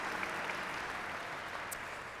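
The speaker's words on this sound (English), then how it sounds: "how about another round of applause for Tanika for a very well-deserved award" Faint, distant applause from a large audience at a Martin Luther King Jr. celebration event, a soft continuous patter of many hands that tails off slightly at the end.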